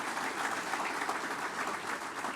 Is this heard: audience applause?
yes